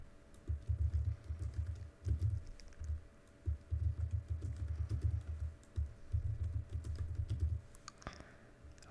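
Someone types an SSH password on a computer keyboard in short bursts of rapid key clicks separated by brief pauses, close and fairly quiet with no talking.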